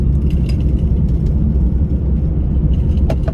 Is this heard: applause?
no